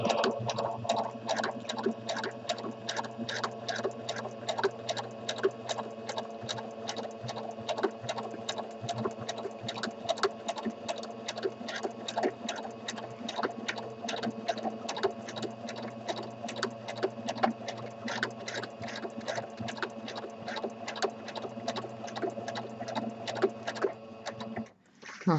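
A sewing machine free-motion stitches around a painted fabric appliqué, running at a steady rapid needle rhythm throughout, close and continuous, stopping briefly at the very end.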